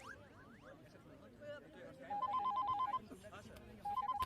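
A telephone rings in two bursts of rapid warbling electronic trills, the second cut short, against a busy background of room noise in a Hindi-dubbed South Indian film scene.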